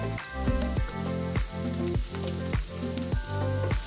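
Baguio beans hit a hot pan of pancit canton with a loud, steady sizzle, punctuated by rhythmic clanks of stirring about every half second.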